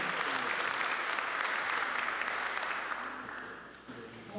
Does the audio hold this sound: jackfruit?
no